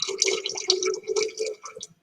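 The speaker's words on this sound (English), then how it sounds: "So we pour it in" pH indicator liquid is poured into a container in a short, quiet trickle lasting about two seconds, with soft splashing and gurgling that tapers off at the end.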